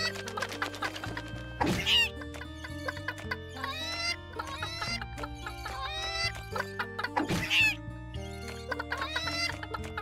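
Chickens cluck repeatedly in the video game Secrets of Grindea, bright short clucks and squawks sounding over bouncy game music, with two louder sharp squawking bursts standing out.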